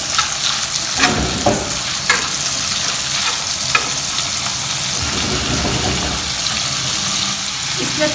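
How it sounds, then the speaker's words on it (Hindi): Boneless chicken pieces sizzle steadily in a hot pan while being sautéed, a constant loud frying hiss broken by occasional scraping stirs and clinks. "चिकन बोनलेस में इसको थोड़ा सा फ्राई करना है, थोड़ा सा सौते करना है"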